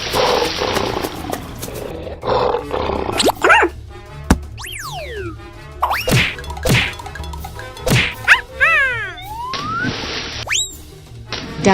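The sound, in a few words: lion roaring in a video game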